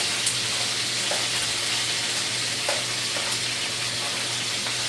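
Sweet peppers, tomatoes, white onions and garlic fry in a very hot pan, giving a steady, even sizzle throughout with a few faint clinks.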